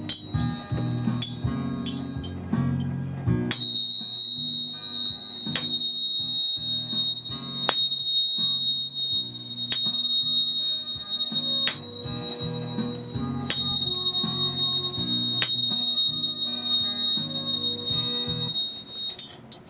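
Sound-healing tuning fork pitched at B rings in a sustained pure tone, struck repeatedly at irregular intervals of a few seconds, each strike a bright click before the tone carries on over a low background drone.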